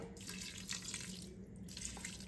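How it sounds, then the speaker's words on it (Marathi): Hot water poured over rice and vegetable layers in a pressure cooker for veg biryani, a steady close splashing pour that runs continuously with no talk. "त्याच भांड्याने मी दीड भांडं पाणी गरम करून घेतलेलं आहे ते आपल्याला थोडंसं ह्याच्यावर घालायचं आहे"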